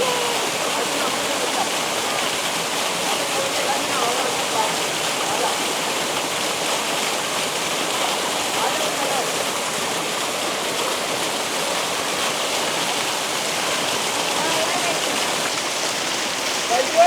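A waterfall in the forest near Kotabagh, its steady broadband roar of rushing water continuing unbroken and fairly close, loud and even throughout, with no clear talk above it.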